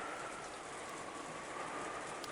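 Steady rain from the Umineko game pours as a dense, even hiss with no breaks, fairly quiet and alone for a couple of seconds.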